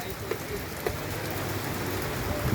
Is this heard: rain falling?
yes